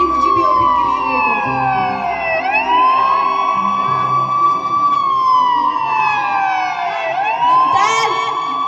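An ambulance siren wails loudly and close by in slow falling and rising sweeps, repeating twice over a low traffic rumble.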